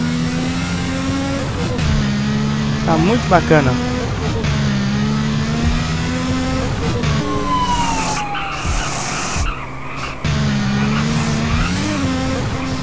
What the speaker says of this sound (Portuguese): ele vai dar essas explosões aí no escapamento